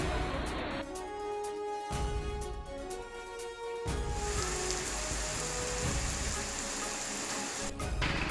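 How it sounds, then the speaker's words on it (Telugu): Heavy rain pours down on the city of Hyderabad during severe flooding, a steady, dense wash of rainfall with a clear change in tone partway through, loud and continuous from start to end. "నగరాన్ని అతలాకుతలం చేసిన భారీ వర్షాలు ఇంకా కురుస్తూనే ఉండడంతో"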